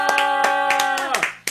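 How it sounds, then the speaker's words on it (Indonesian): A church congregation claps hands in rhythmic bursts about four times over a sustained musical chord from keyboard or organ, with the music fading toward the end. "Tepuk tangan dulu buat Tuhan kita"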